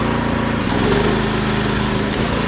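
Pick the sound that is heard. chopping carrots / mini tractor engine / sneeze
mini tractor engine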